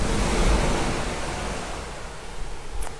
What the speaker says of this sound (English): So as you can see, I'm literally right over the ocean.